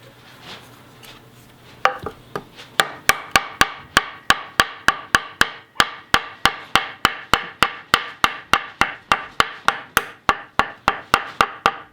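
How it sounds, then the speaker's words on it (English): A fuel injector bung on a 911 Turbo being hammered into place: a long run of sharp, evenly spaced knocks, close and loud, around two per second, with no talk. "A couple smacks and it settles in."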